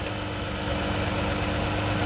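Steady low car engine idle with a constant rumble and faint vibration, close and unbroken throughout, on a car that overheats with the AC on.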